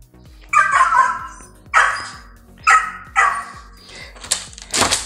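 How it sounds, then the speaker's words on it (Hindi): A puppy at home barks in short bursts, about five loud yips and barks spaced roughly a second apart, close to the listener with no talk over them. "उसको हमारी आवाज़ सुनाई दे रही है, और वो भौंकना शुरू कर दिया उसने, हमें ढूंढ रहा है।"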